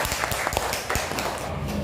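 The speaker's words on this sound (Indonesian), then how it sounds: "Tepuk tangan Mbak Rizka." Classroom applause as students clap hands together, a brief burst of fairly loud, overlapping claps mixed with some voices.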